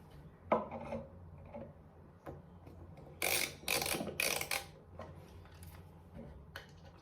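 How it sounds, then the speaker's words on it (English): Wood screws are driven in by hand to mount a bathroom shelf, with light scraping clicks followed by a few close, gritty bursts of the screw biting into the wood, otherwise quiet. "The wood screws should just go in quite nicely here."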